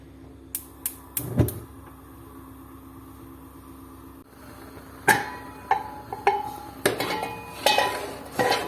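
A cooking mixture stirred in a pot over a high flame: sharp metallic clinks and scrapes of a spoon against the pot, several in quick succession, then a quiet pause before steadier clattering stirring with a low background hum.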